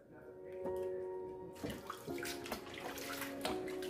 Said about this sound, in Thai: แผนกล้างผักค่ะ